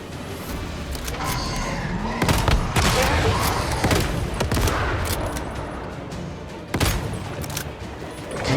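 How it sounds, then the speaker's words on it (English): A boss firing rockets in the video game Once Human, a dense, continuous barrage of loud booming blasts and rapid gunfire with heavy thuds, close and sustained for several seconds without talk. "You are shooting his rockets already."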